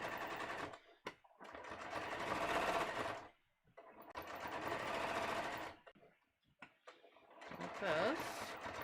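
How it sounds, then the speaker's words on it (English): A sewing machine stitches through seam allowances and into the lining of a holiday dress, running in three steady rattling bursts separated by short pauses, with someone speaking quietly in between. "I'm stitching through the seam allowances of both and into the lining here."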